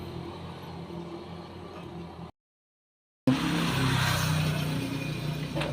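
Motorcycle engine starting up after a 4-pin CDI conversion rewiring, steady running noise that cuts out briefly, then catches again and runs louder and fuller nearby.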